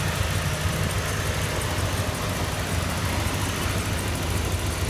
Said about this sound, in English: Engine sounds beautiful.